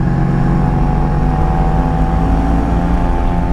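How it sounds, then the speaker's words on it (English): A 1983 Honda Sabre V45 VF750S motorcycle with a V4 engine runs at a steady, smooth idle, a continuous low even hum close by with no talking. "The V4 engine is just purrs along"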